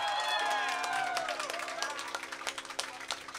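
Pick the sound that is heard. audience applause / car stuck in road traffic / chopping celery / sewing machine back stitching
audience applause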